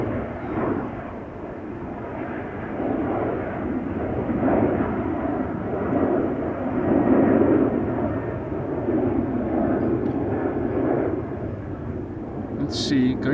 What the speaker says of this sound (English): 737-900 SkyTeam livery KLM question mark?